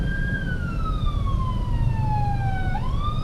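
Ambulance siren wailing in Mega Manila street traffic, a long descending tone that sweeps back up near the end, heard over a continuous low rumble of vehicles.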